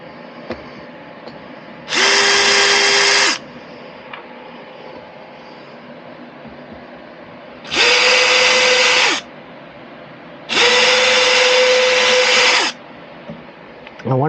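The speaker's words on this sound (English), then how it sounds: "And I'm just pre-drilling the holes." A power drill pre-drills screw holes in a solid boat bulkhead while saloon lighting is fitted, in three separate bursts of high whirring, each lasting one to two seconds with short pauses between, close and loud over a quiet room.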